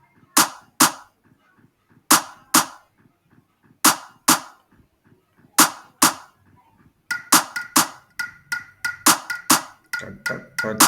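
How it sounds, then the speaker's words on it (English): Sharp rim shots on a drum in an African praise beat loop, a repeating pattern of paired cracks over a low beat that quickens into a denser run of hits near the end. "Our rim shots."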